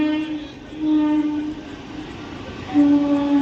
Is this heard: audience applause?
no